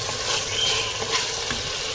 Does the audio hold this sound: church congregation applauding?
no